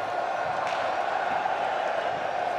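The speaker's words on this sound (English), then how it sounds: "Crowd is buzzing, got the wave going." Ice hockey arena crowd at the 2018 IIHF World Championship game between Sweden and Belarus, a dense, steady buzz of many voices filling the hall with no single sound standing out.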